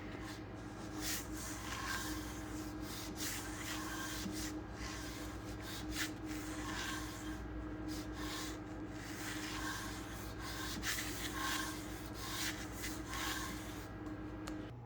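Hand sanding of a 2009 Yamaha WR250F engine cylinder bore in a figure-8 pattern with light pressure: a continuous soft, gritty rubbing that pulses gently with the strokes, close, fairly quiet and without talk.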